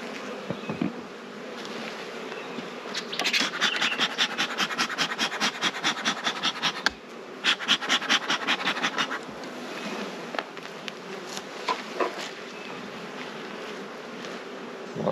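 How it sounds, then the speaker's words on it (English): Honeybees in a hive box hum and buzz close up, with rapid papery rustling of wings coming in pulsing bursts that swell and fade across the stretch. "Hear wing rustling."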